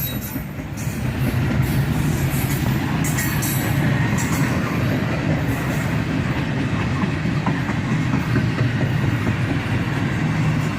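A freight train made up of a long cut of empty cars rolls steadily past nearby, a continuous loud rumble with rattling wheels and faint clacks throughout.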